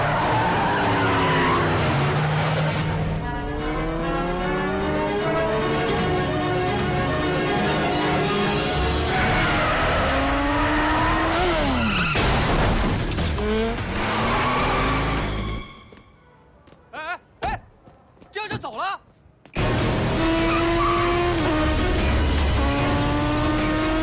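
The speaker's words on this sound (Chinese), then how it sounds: "驾驶一辆大排量灰色摩托车向大学路开去" A large-displacement grey motorcycle speeds along, its engine whining and rising in pitch while tires squeal and skid loudly for long stretches. After a brief near-silence broken by sharp bursts, the roar resumes.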